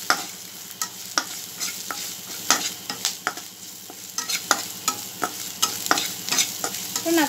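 Chilli powder and masala fry in a pan for prawn masala curry, a soft steady sizzle punctuated by frequent sharp spatula scrapes and clinks as it is stirred, with no voices.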